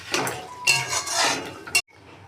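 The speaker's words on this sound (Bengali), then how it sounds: "এবার একটা ঢাকনা দিয়ে ঢেকে দেবো" A lid is set onto a cooking pot of pumpkin, potato and bori curry: a few close metallic clanks and scrapes, ending in a sharp clatter and sudden quiet.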